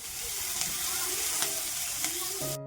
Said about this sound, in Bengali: আর এদিকে দেখো আমি পেঁয়াজ ভাজা করছি মুড়ি খাওয়ার জন্য